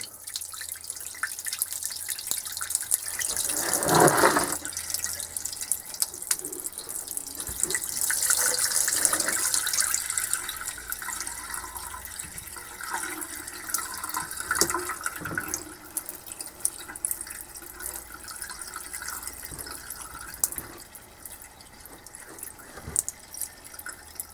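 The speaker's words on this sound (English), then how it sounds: "I'll try to siphon like some of the water off here." Water being siphoned out of a rusty Honda TRX70 gas tank, heard as irregular dripping and trickling splashes with a brief louder gush, close by and without voices.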